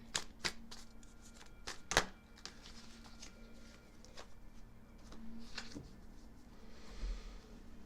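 Tarot cards being shuffled by hand for a reading, a series of quiet crisp flutters and taps, with a few sharper snaps near the start, in a calm room with faint background hum.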